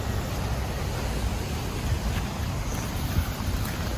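A waterfall gives a steady, dense rushing roar that stays even and unbroken throughout, with no voices over it.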